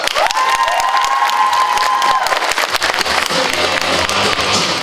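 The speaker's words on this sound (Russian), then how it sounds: "под ваши бурные аплодисменты" Stormy applause and cheering from a student audience at an agricultural institute's spring show, loud, dense clapping and shouts throughout, with a voice trailing off under it at the start.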